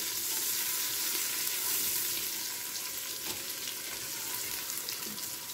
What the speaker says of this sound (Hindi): इसको ब्राउन होने देंगे, प्याज को भी और लहसुन अदरक को भी।